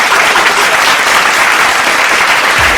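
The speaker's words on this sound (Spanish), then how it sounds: "por favor, un fuerte aplauso." Loud, dense applause from an audience, many hands clapping together in an even, continuous roar that fills the whole moment.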